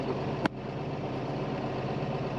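A tractor engine idles during soybean planting, heard from inside the cab as a steady, even low drone. A single sharp click comes early, and no one speaks.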